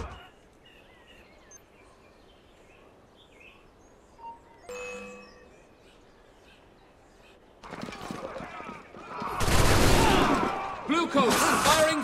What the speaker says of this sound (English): Bluecoats, firing from above.